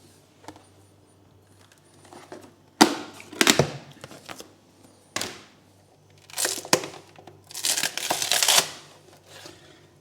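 Plastic wall tiles are pried off a kitchen wall in a series of sharp cracks, snaps and crinkling rips, irregular bursts separated by quiet pauses.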